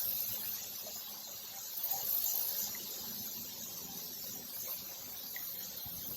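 A continuous high-pitched insect buzz, like cicadas, holds steady throughout, with faint water murmuring underneath.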